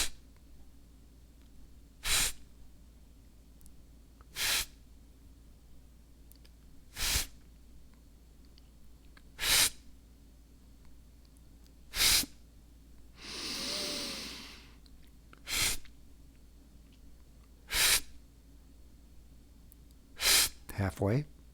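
Slow, deep breaths come at an even pace during a guided breathing exercise, with short breath sounds every couple of seconds and one longer, softer inhale in the middle, all quiet and close.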